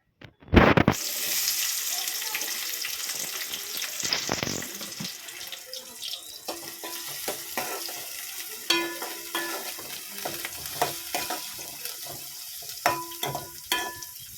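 Onions fry in oil in a pan with a steady hiss, followed by scattered clinks and stirring scrapes; a loud clatter opens the sequence.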